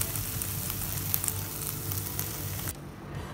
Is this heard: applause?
no